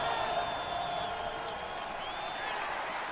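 Steady, dense roar of a stadium crowd at a Boise State home college football game against Tennessee-Martin in Bronco Stadium, loud and continuous, with faint whistles or whoops rising above the din.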